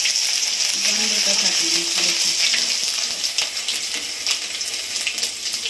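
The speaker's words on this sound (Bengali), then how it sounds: "রসুনটা ভালো করে কষানো হলে ভালো হয়" Garlic sautés in hot oil with a bay leaf, giving a loud, continuous crackling sizzle with stirring, while someone speaks briefly.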